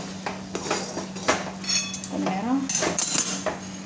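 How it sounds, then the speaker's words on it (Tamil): A spoon scrapes and clinks against a pan while stirring rava upma, quick irregular metallic taps up close, with a low steady hum underneath and a voice briefly audible. "நல்லா அப்படி கிளறி விட்டுருணும்."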